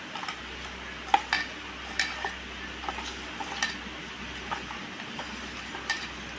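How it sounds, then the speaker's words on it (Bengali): Prawns being rubbed with salt and turmeric by hand in a bowl give soft, quiet squelching and occasional light clinks against the dish, faint and irregular with no talking. "নুন হলুদটা ভালো করে মাখিয়ে নেব।"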